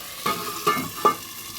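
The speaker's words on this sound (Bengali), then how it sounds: "ভালো করে মশলার মধ্যে সবজিগুলো ভেজে নিলে টেস্টটা ভালো আছে" Vegetables frying in spices in a pan for a katla fish curry, with three distinct scraping stirs over a soft continuous sizzle, close and fairly loud.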